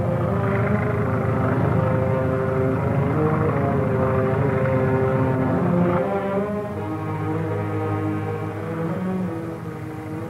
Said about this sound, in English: Hear that plane?